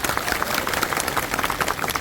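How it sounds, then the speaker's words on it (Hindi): A crowd at a Jan Ashirwad Yatra political rally in Padhana, Sarangpur, Rajgarh district, claps steadily for two seconds, a dense patter of many hands at moderate volume. "अरे तालियों की गड़गड़ाहट से।"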